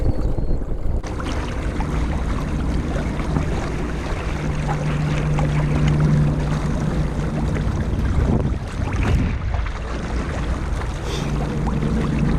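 A trolling motor pushes a motorized kayak across open water, a steady close hum running throughout over broadband water and wind wash, with no voices.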